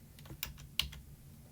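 Quick keystrokes tap on a computer keyboard in a short irregular burst, close and fairly soft, with no voices.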